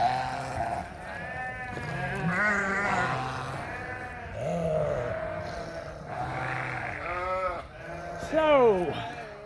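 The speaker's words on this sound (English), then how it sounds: "So these are all the ewe lambs." Ewe lambs in a sheep barn bleat repeatedly, several overlapping wavering calls near and farther off, mixed with low grunts, alongside a person talking.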